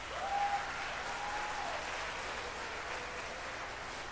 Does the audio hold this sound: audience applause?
yes